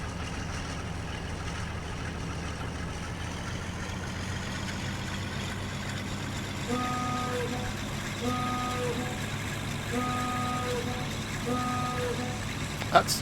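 A diesel locomotive in the game Train Simulator 2021 rumbles at idle, then sounds a series of repeated tonal horn blasts in a steady on-off pattern, moderately loud over the low engine drone, with some talk.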